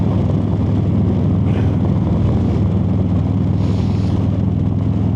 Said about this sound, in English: When I think motorcycle sound, that's kind of what I envision.